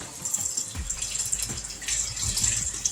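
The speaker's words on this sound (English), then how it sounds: "I'm going to take the skillet and I need to rinse what's in the skillet out." Tap water runs into a skillet to rinse it out, a steady broad rush with faint clatter and splashing, close and continuous without any talk.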